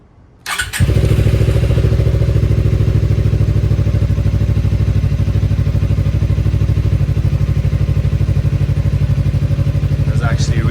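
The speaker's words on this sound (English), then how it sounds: "let me hold the clutch and crank this thing over. Hopefully it fires right up." A Suzuki GSXR motorcycle with 3,607 miles and a nearly empty tank cranks briefly, then fires up almost at once. It settles into a loud, close, steady idle with an even, rapid pulsing beat.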